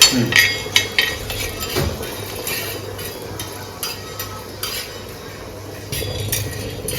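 Dry spices frying and being stirred in a pan for a Bengali chicken masala curry, with repeated metal clinks and scrapes of a utensil against the pan over a low steady sizzle, close by.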